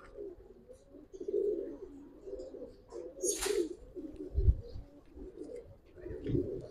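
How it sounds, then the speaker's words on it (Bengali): Pigeons coo in repeated soft, throaty bursts at close range, with a brief flutter partway through and no talking. "আজকে অনেক কবুতর আছে"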